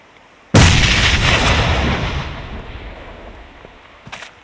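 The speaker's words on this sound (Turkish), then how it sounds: "Şuraya bomba attım." A grenade blasts in the mobile battle-royale game PUBG Mobile: one sudden loud boom with a long rumbling decay, then a short faint crack near the end.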